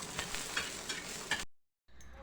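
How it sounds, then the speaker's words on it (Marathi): Dry toor dal roasting and being stirred in a pan at home while green chilli amti is prepared, a steady crackling sizzle with soft scraping strokes that cuts out briefly, then returns. "डाळ छान भाजून घेते"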